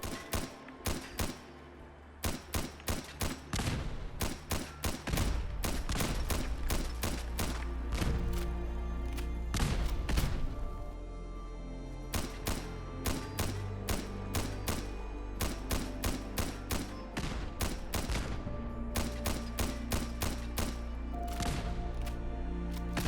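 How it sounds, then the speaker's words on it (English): M14 rifle fired in Fallout 4 without a scope, a long series of sharp, loud gunshots in rapid bursts and single shots, close and clear with no talk. "shooting the M14 without the scope so you can see the weapon's animation and also take note of the sound that the M14 makes"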